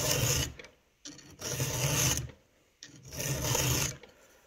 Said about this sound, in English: We'll take the proper size file. We'll hold it at the right angle.